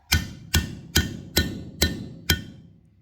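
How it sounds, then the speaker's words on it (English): Six sharp metallic hammer taps on a valve seal installation tool on a Honda/Acura engine, evenly spaced about half a second apart, each ringing briefly before fading. "just give it a couple love taps with the hammer"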